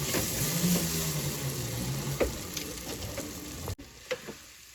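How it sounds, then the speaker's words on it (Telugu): Boiled corn gudalu being stirred into a pan of frying spices, with a steady sizzle beneath scraping stirs and a few sharp clinks of the utensil against the pan toward the end. "ఇప్పుడు ఉడకబెట్టిన ఈ మక్క గుడాలని కొద్ది కొద్దిగా దీంట్లో వేసుకొని బాగా మిక్స్ చేసుకోవాలి"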